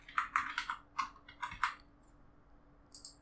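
Typing on a computer keyboard: a quick burst of about eight close, crisp key clicks, then a pause, then a couple more taps at the end.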